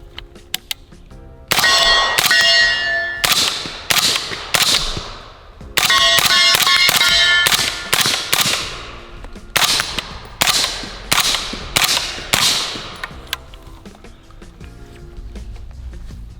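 Suppressed .300 Blackout shots from an FN SCAR 15P rifle, a string of about a dozen sharp, loud cracks fired in quick bursts with short pauses, each ringing briefly outdoors.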